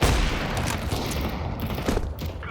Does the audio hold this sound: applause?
no